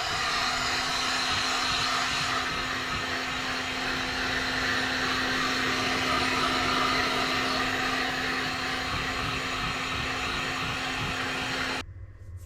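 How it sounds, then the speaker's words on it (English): Heat gun blowing steadily over a walnut board being prepared for an epoxy river charcuterie build, a continuous loud airy whoosh with a steady motor hum, running alone until it cuts off abruptly near the end. "I'm going to just run the heat gun over this for a few minutes."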